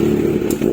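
A Kawasaki Z1000 R fitted with an SC Project full titanium exhaust rumbles loudly and steadily nearby, a brief, deep, throaty idle with a slight dip midway and no voices.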